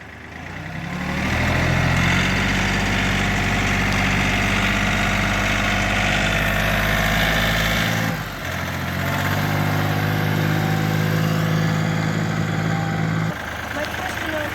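The diesel engine of a Kioti CK3510 compact tractor runs steadily while the tractor drives in circles. It has a low, droning idle-like hum with a brief dip midway, and voices talk over it.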